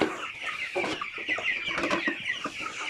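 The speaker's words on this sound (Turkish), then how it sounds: "Şöyle bu cücüklerimiz 22-23 günlük." Chicks 22 to 23 days old cluck and peep in quick, busy bursts, fairly close and moderately loud, with no talking over them.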